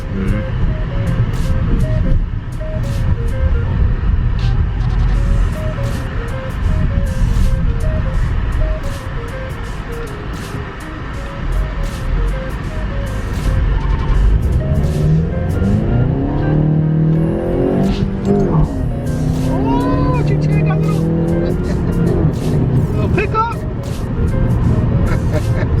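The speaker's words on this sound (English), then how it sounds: "now I can just let go of the clutch, hit the gas, and I'm rolling" A manual-transmission car pulling away as the clutch is released and throttle applied, engine hum rising and shifting in pitch inside the cabin, running steadily under near-continuous talk from the driver.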